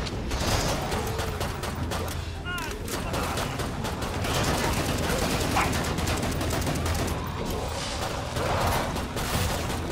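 Rapid bursts of gunfire from a shooting video game played during an Extra-Life charity stream, with dense repeated shots and mechanical clicks running continuously and loudly throughout.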